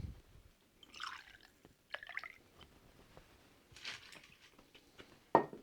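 Chemist gin and Pimm's No. 1 poured into a cocktail, short soft splashy pours and drips in a quiet room, separated by brief pauses and a sharp clink near the end.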